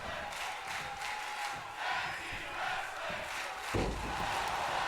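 A wrestling arena crowd in WWE 2K22 chants in rhythmic, pulsing waves during a Ring of Honor tag team match, a steady roar with a brief thud near the end.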